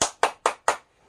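Four loud, crisp hand claps in a quick, even rhythm, close by and alone, followed by near silence.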